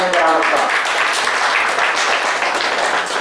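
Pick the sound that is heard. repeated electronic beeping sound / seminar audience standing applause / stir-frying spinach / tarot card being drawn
seminar audience standing applause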